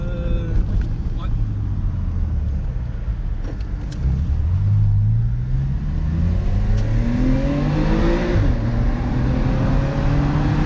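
A Porsche 997.2 Carrera S Cabriolet with PDK gearbox, driven in Sport mode, pulls through the revs with climbing engine tones and gear changes, steady and close from inside the car, with people talking over it.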